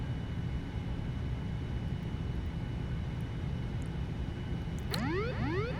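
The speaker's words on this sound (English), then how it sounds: "Autopilot going off." A 787-9 autopilot disconnect warning in an FSX flight simulator: a few rising, wailing electronic chirps arrive near the end and play over a steady cockpit engine drone.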